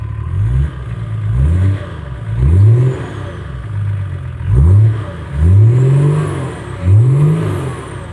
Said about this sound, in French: Mets-nous quelques coups de gaz